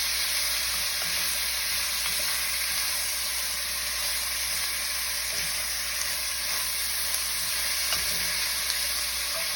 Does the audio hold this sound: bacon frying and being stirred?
yes